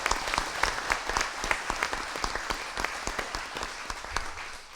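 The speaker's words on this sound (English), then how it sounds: "give the Lone Oaks crew a round of applause." A crowd at a meeting claps for the Lone Oaks crew, a sustained patter of many hands at an even, moderate level with no voices over it.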